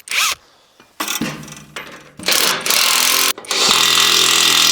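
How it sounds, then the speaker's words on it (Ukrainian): An 18 mm wrench tightens the last bolts on the rotary tiller cutter of a Kentavr 1010 walk-behind tractor, heard as several close, loud rasping ratchet bursts separated by short pauses. "Ось такими потугами дожимаємо останніх два болти."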